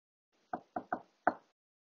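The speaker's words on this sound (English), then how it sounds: "But then there was yet another knock at the door." Four sharp knocks sound on a wooden door, two quick raps, a pause-free third, then a final harder knock, close and alone in silence.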